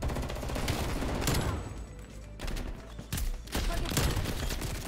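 Rapid gunfire fills a Black Ops Cold War match, including shotgun blasts, with repeated loud bursts and short pauses over a continuous busy game backdrop.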